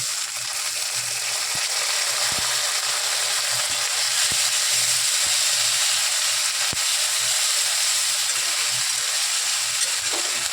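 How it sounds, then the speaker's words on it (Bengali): Garlic and ginger paste sizzle in a pan after a splash of water, a continuous, even hiss of frying that holds steady throughout with a few faint ticks. "এবার একটু জল দেবো, দিয়ে একটু কষিয়ে নেব।"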